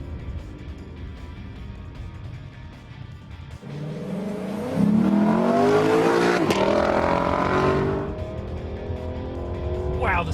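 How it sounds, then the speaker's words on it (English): A 2017 Aston Martin DB11 accelerates through a pylon course, engine rising in pitch as it sweeps past with a swell in loudness, followed by further revving and faint tire noise. "It accelerates so fast that entry speed into the first pylon is extremely fast."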